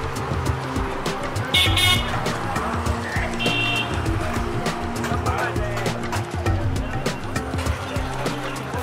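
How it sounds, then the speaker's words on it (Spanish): A motorbike engine runs along a busy village street in Mandawa, India, while horns toot briefly in the distance and people talk nearby. "hay una que otra moto"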